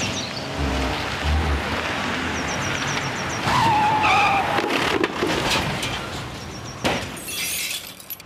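A car skids with a rising tyre squeal during a driving lesson, then crashes with a loud impact and breaking glass, the clatter dying away after the collision.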